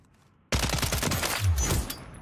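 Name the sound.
gunfire from a gun in the video game Call of Duty: Warzone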